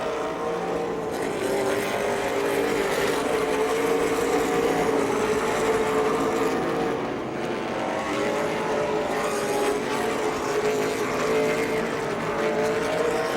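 Super late model race cars circle the track in a TUNDRA Super Late Model Series feature, giving a continuous loud engine roar and whine that swells and fades slightly as the pack passes, with no talk over it.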